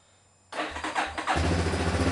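A Yamaha Warrior ATV engine cold-starts with the choke on, catching abruptly after a quiet moment, sputtering briefly, then settling into a loud, steady idle close by.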